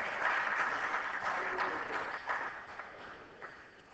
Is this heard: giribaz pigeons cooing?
no